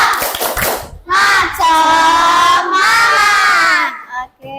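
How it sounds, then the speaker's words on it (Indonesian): Schoolchildren in an Indonesian classroom perform a rhythmic spirit clap, a short burst of quick claps followed by loud chanting voices in unison. "Oke, tepuk semangat."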